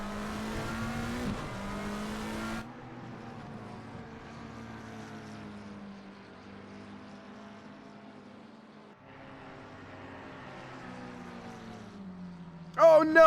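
Race cars at a wet Silverstone circuit drone steadily, their engine note rising and falling in long sweeps at a distance, and a sharper close burst of revving comes at the very end.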